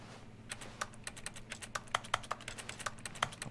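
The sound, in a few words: keyboard typing noises in Stanley Parable video game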